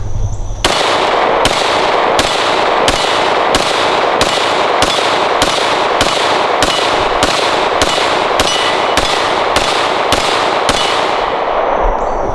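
FN Five-seveN pistol fired at a range, about fifteen loud sharp gunshots in a fast, steady rhythm with short ringing decay between them, close to the listener and with no voices.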